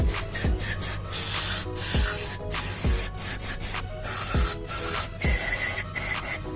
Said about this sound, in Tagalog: Dito ay mag-spray na tayo ng kanyang mga